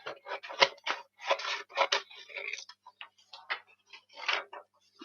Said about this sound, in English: So I will cut this out and kind of attach it to the page.